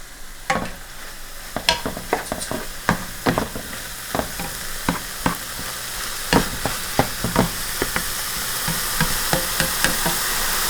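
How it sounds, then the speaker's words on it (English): Sauce being stirred in a pan as it thickens, with repeated scraping strokes of a utensil over a steady sizzle, close and fairly loud, with no voices. "And let me stir this."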